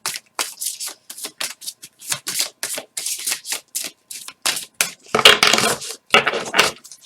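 Oracle cards for an archangel draw shuffled by hand, a long run of quick crisp riffling bursts with short pauses, close and fairly loud, growing denser toward the end, no talking.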